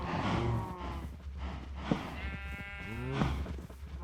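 Cows in the Minecraft video game moo several times, low drawn-out lowing calls overlapping one another, fairly close and steady against game background noise.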